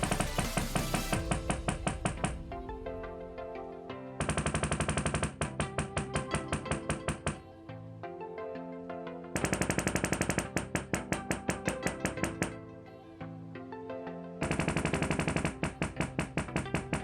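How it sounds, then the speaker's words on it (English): Sony HT-A9 wireless speakers fire loud calibration bursts to map the room, coming as dense rapid-fire blocks of clattering tones in repeated loud bursts with brief quieter gaps between them. "each speaker will make some loud noises and use its microphones to analyze and map out your room"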